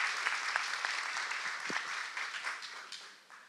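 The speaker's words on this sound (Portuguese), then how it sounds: "Aplausos." Applause from an audience at a panel session, a crisp burst of many hands clapping that gradually thins and fades over a few seconds.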